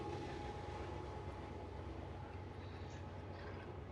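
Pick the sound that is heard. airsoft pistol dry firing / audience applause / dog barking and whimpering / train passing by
train passing by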